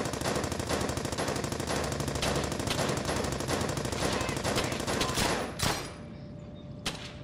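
Sustained automatic gunfire from the video game Battlefield on PS3, dense rapid bursts filling most of the clip before cutting off, followed by a few scattered single shots with a brief lull.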